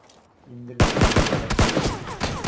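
Gunfire in PUBG erupts suddenly after a quiet moment, a loud close volley of rapid shots with echoing tails that keep rattling to the end.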